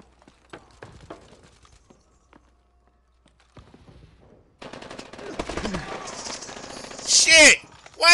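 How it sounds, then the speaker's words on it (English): Rapid gunfire in Call of Duty: Advanced Warfare, sparse shots and footsteps at first, then dense automatic bursts building to a loud burst near the end, with some voice underneath. "Hear a lot of shooting."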